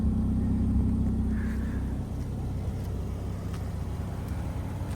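A car slowly backing out of a garage into sunlight, a low steady engine rumble close by that eases slightly after the first two seconds, with no talking.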